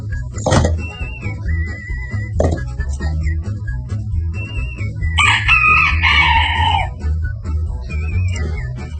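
Chickens cluck and a rooster crows loudly nearby, with several crowing calls and scattered clucks over a busy farmyard background and faint voices.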